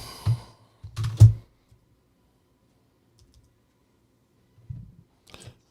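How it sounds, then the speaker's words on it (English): Sparse, scattered clicks and taps on a computer keyboard come in two short bursts separated by a long near-silent gap, close and fairly loud, with no speech. "Okay, my keyboard's not working."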